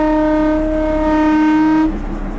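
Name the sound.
narrow gauge train heading back toward Bilimora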